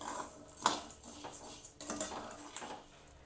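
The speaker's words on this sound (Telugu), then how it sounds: "ఈ విధంగా వేగితే సరిపోతుంది." Home-made sambar powder spices being stirred in a pan, with several clattering scrapes and clinks of a utensil against the metal over a soft background, nearby and fairly quiet.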